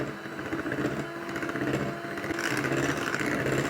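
An electric mixer runs at slow speed blending room-temperature mascarpone cheese for a cherry tea cake batter, a steady close motor whir with a faint rhythmic churn.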